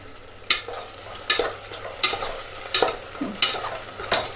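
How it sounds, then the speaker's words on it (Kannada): Tomatoes fry in a pan for tomato biryani, with soft sizzling under six evenly spaced, sharp scraping strokes of a spoon stirring close by. "ಈಗ ಇದ್ರಾಗ 1-2 ನಿಮಿಷ ಇದ್ರೆ ಫ್ರೈ ಆದ್ರೆ ಸಾಕು ಟೊಮೆಟೊ"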